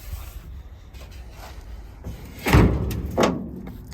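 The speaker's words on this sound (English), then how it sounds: "Door doesn't really close too well." Quiet rustling gives way to the heavy metal door of an old 1974 Ford F350 truck in a junkyard thudding shut, followed by a second, lighter clunk; the door doesn't close well.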